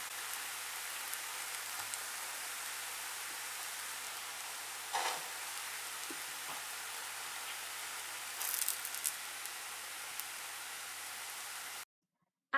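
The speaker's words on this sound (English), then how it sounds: "flip your pancake and let it fry on the other side" Pancake batter topped with apple slices sizzles in a frying pan, a steady hissing crackle that holds evenly throughout and then cuts off abruptly near the end.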